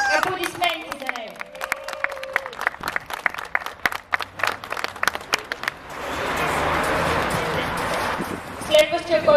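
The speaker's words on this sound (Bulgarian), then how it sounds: "Аплодисменти за него." Audience applause at the end of the first round of a 2014 Scania truck driver competition in Bulgaria: scattered individual claps build into a steady, dense burst of clapping, with an announcer's voice heard near the start and end.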